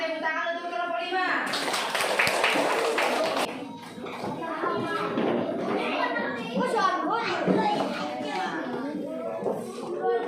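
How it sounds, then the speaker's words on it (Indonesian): Children in a classroom clap together for a group, a short burst of dense applause early on, then children's voices chatter and talk over scattered taps for the rest. "tepuk tangan untuk kelompok 5"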